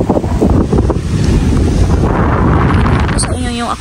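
Strong wind buffeting the microphone by the sea near an island, a loud steady rush with waves beneath and someone speaking over it.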